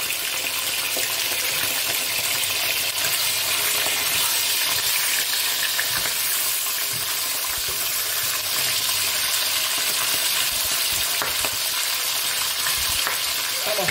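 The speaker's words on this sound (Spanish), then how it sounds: "a freír las carrilleras" Pork cheeks (carrilleras) browning in a hot pan, a loud, continuous close sizzle and crackle of frying oil that holds steady throughout.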